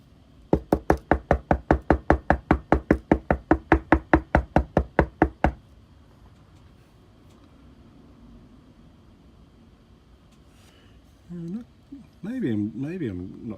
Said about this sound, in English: What if I knock?